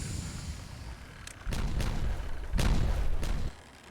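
Explosives detonate in the beaver city-building game Timberborn: two heavy, rumbling blasts about a second apart, each swelling into a booming roar over a low, constant background before it cuts off.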